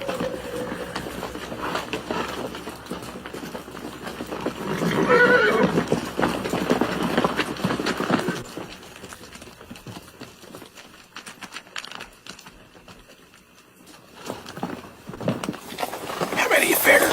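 Horses in a Western cowboy film scene, with hooves clip-clopping and whinnying amid outdoor ambience, loudest in the middle and rising again at the end, mixed with other background sound.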